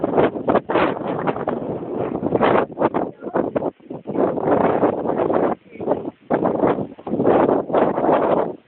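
Strong outdoor wind buffets the microphone in loud, continuous gusts and roaring rushes, with brief lulls between them.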